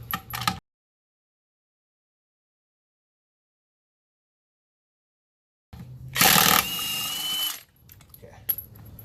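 Earthquake XT impact wrench briefly spinning its anvil, a loud buzzing mechanical whir lasting about two seconds after a long silence, with softer handling clatter around it.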